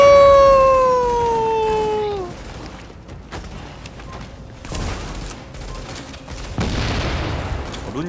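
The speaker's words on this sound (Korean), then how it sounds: "앞에 수류탄 던졌어요" A grenade is thrown in The Division video game. A falling whistling tone fades into muffled combat noise, then a rough, noisy blast bursts out near the end amid scattered gunfire.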